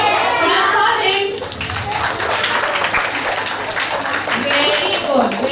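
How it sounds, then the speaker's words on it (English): Schoolchildren clapping for a classmate during a school assembly, a lively spell of many small hands applauding close by with children's voices chattering over and through it. "Clap for him."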